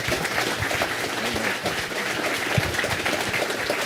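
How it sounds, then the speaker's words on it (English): Audience at a panel on the game Rogue breaks into sustained, dense applause, a steady wash of many hands clapping at even loudness throughout, with no voices over it. "Huge round of applause, everyone."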